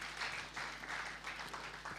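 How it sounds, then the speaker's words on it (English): Audience applause at a live-streamed event for the Commissioner of Women Affairs of Adamawa State, a short steady burst of clapping heard from a distance, somewhat muffled. "Put your hands together for her, please."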